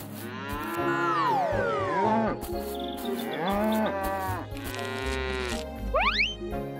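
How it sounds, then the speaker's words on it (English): Several cows moo in long, drawn-out calls one after another, fairly close, with a quick rising squeak near the end. "Give grass to the cows."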